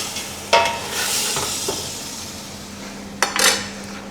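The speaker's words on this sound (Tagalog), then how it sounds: "I-mix lang natin siya ng light." Chicken tinola being stirred in a cooking pot, with scraping spoon strokes against the metal at two points over a steady low simmering hiss, close by and moderately loud, no talking.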